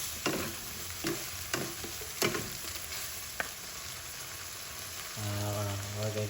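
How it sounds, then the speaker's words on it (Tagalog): Bean sprouts (togue) stir-fried with oyster sauce in a hot pan, a steady sizzle broken by sharp clanks of a spatula stirring, with a louder burst of frying near the end. "We're going to put our TOGUE and mix it."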